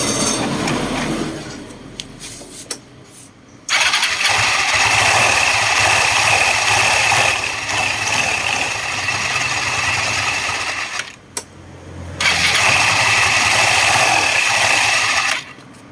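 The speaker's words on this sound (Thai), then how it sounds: "ใส่ครบเรียบร้อยเดี๋ยวมาลองเครื่องกันนะครับผม" A Yamaha Mio 125 scooter engine running after a one-way starter bearing and starter spring repair, a loud steady mechanical hum with two brief drop-outs where the engine note dips before resuming.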